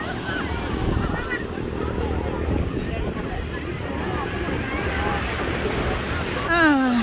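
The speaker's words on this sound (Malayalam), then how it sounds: "ഇവിടെ ഉണ്ടായിരുന്ന ബോട്ട് പോവുകയാണ്, വേറെ ഒരെണ്ണം വരുന്നുണ്ട്." At a Goa jetty, a boat pulls away, its engine rumbling steadily alongside washing water and wind, while people talk close by.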